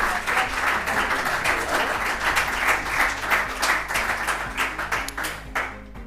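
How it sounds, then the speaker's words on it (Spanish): Audience at a round-table panel event clapping for a speaker taking her seat, a loud sustained round of applause with individual claps audible, tapering off at the end. "Fuerte el aplauso para ella"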